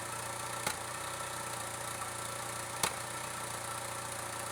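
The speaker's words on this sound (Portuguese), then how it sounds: "E agora o motor aqui ele aqueceu um pouco e parou um pouco de falhar." Car engine idling with an ignition misfire, a steady low hum with two sharp, isolated knocks breaking through the even running, heard close with no talk.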